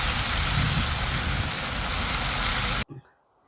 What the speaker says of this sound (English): Keep the water out for this rain.